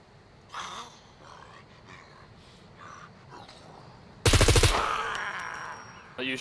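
Automatic gunfire from the survival game SCUM bursts out loud and close as a rapid string of shots, then fades into a ringing tail, after a stretch of quiet, muffled movement and faint voices.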